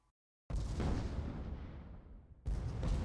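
Heavy robot gunfire in a competitive video game match, a loud close burst of booming shots after a brief silence, rolling and decaying for about two seconds before a second burst begins.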